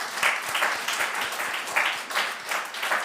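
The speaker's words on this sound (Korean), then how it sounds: "함께 박수하겠습니다" A church congregation applauds during a Sunday service, a brief burst of many hands clapping in uneven rhythm, filling the room from start to finish.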